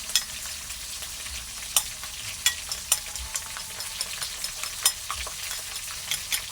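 Kangkong frying with eggs in a pan gives a soft, continuous sizzle with light crackles and occasional spatula clicks, fairly quiet and close.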